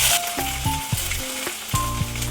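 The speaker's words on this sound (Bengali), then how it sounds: "গোটা জিরা ফোড়ন দিয়ে দিলাম, তো তেজপাতা দিয়ে দিলাম" Whole cumin seeds and a bay leaf temper in hot oil for a soybean dish. A loud, close sizzle is broken by crackles and several sharp clinks of stirring.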